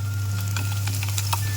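Garlic frying in a pan for a sour eggplant dish gives a steady close sizzle with a low constant hum beneath and scattered crackles and pops.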